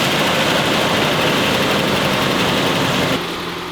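A 1990 Nissan D21 pickup engine, fitted with a new fuel pump, idles loudly and close up with a steady, slightly rough churning hum that drops in level near the end; no voices.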